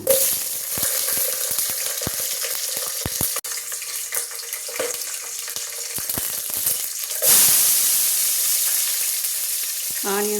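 Green chilies sizzle and crackle steadily in hot ghee in a pan while vegetable biryani is cooked, a close, continuous frying hiss with occasional stirring clinks and a louder surge near the end.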